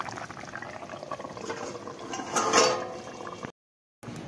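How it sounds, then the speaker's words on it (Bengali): Mutton broth bubbling in a pot on a home kitchen stove gives a steady, close, busy boiling texture that swells briefly before cutting off into a short silence, with no voices present. "আর মাংসের ঝোলটা এখনো ফুটছে, এখনো হয়নি"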